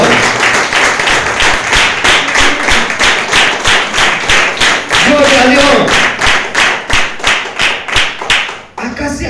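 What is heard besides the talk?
church congregation applauding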